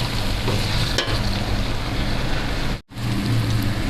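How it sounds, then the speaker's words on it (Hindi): Garlic ginger paste stir-fries in a pot, a steady dense sizzle with scraping stirs, briefly cut out near the end before resuming, close and fairly loud with no talking. "लहसुन अदरक का पेस्ट डाल के हमें इसे थोड़ा सा भूनना है।"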